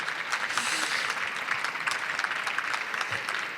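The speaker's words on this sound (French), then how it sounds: "si vous voulez applaudir Véronique" An audience at a literary meeting with an author gives steady applause, continuous even clapping heard at a moderate distance and fairly soft, with no talk over it.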